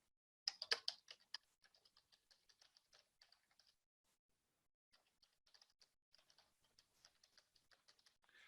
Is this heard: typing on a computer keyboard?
yes